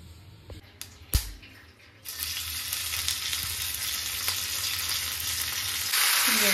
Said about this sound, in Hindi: बस मुझे हल्का हल्का इसको कलर लाने तक फ्राई करना है